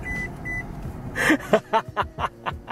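Two short electronic seatbelt warning beeps sound inside a car, followed by a series of louder chiming tones over low road rumble.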